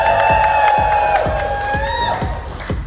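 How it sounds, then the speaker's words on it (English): Audience at a steampunk convention fashion show cheering and whooping, a loud crowd roar with rhythmic clapping-like thumps and scattered shouts. "let me hear a cheer"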